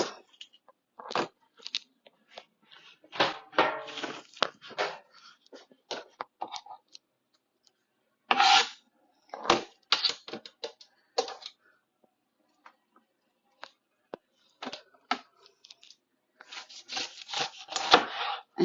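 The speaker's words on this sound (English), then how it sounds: "this is my third pineapple, and I'm just going to do the same thing. Cut the top off, cut the butt off." A knife cuts through a pineapple, trimming off the top and base and slicing down the sides: a series of close, crisp crunching and scraping strokes in irregular bursts separated by quiet gaps.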